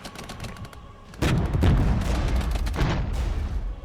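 Gunfire in a modern-war tactical game as units engage T-55 tanks, starting with scattered shots and then breaking into a loud, sustained burst of rapid fire and booms.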